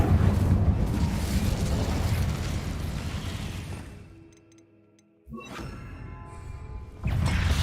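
Incendio fire spell cast in Hogwarts Legacy, heard as a loud whooshing fiery roar that fades, then a sudden burst and a crackling flare of flame after a short lull.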